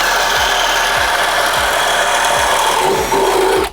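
A Milwaukee Gen 3 hammer drill drives a 1.25-inch spade bit through a 4x4 post, making a loud, steady, close-up whir and rasping chew of wood with a rhythmic low thumping throughout, cutting off at the end.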